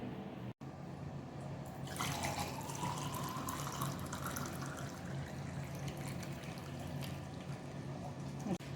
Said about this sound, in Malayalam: ഇനി നമുക്കിതൊരു ഗ്ലാസ്സിലോട്ട് ഒഴിച്ചു കൊടുക്കാവേ